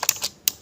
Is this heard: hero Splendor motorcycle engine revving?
no